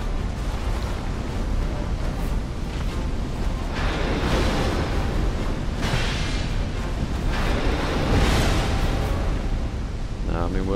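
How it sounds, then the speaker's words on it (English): A deep, low rumbling blast from an enemy's explosion attack in Dark Souls II rolls through, with several broad, roaring surges swelling and fading over continuous dense noise. "I hate that stupid low explosion he does"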